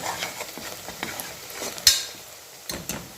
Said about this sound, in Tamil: நல்லா வெங்காயம் வதங்குது